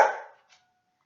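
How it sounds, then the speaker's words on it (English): A single dog bark rings out sharply close by and decays quickly, followed by a faint short echo or yip. "I'm sure you guys heard my dog barking there."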